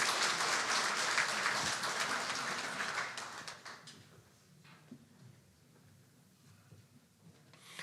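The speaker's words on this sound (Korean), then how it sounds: "우리 축복의 박수 하도록 하겠습니다" A church congregation claps in blessing during a Sunday worship service, a steady wash of applause that fades after about four seconds, leaving faint room noise and a few stray sounds.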